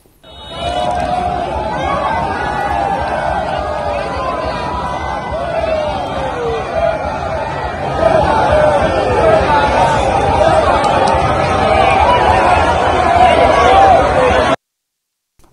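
A large street crowd in Abia State shouts, chatters and cheers while welcoming President Muhammadu Buhari, a continuous dense babble of many voices with scattered whoops, swelling slightly louder midway before cutting off abruptly.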